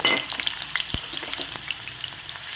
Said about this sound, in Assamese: মিঠাতেলটো গৰম হোৱাত মই এতিয়া ইয়াতে কাটি ৰখা আলুকেইডোখৰ দি ৰঙা কৰি ভাজি ল'ম